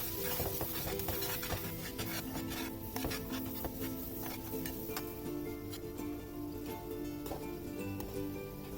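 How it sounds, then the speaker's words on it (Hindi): Garlic paste fries gently in butter in a pan, giving a steady, close, low sizzle. A faint hum and occasional light ticks sit under it. "ये 1 टेबल स्पून के करीब मैंने डाला है लहसुन का पेस्ट। इसको हल्का से फ्राई करेंगे।"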